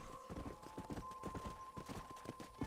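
In Red Dead Redemption, a horse's hooves clip-clop in a steady, quick rhythm near a corral, fairly quiet under a low constant game hum, with no voices.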